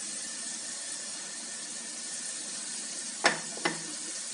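Tomato paste sauce in a pan gives a steady soft sizzling, bubbling hiss as it starts to boil, with two sharp clinks of a utensil near the end.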